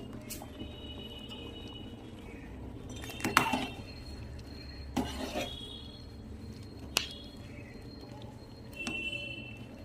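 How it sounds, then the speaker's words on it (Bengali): A spoon stirs khichuri in a cooking pot, giving a few scattered metallic clinks and scrapes against the pot over a quiet kitchen background, with one brighter clink near the start and another later. "এইদিকে খিচুড়িটাও হয়ে এসছে, একটু নেড়ে দেখিয়ে দিচ্ছি"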